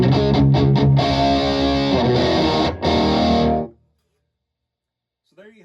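Electric guitar played through a Mesa Badlander 25 amp with the drive turned up and the Tube Screamer off, loud distorted chords ringing for several seconds before cutting off, followed by a brief voice.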